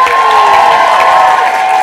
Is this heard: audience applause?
yes